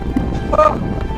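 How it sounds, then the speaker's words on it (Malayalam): Strong wind roars and buffets the microphone in a steady, heavy low rumble with no pauses. "കാറ്റിന്റെ സൗണ്ടാണ് നിങ്ങൾ കേൾക്കുന്നത്"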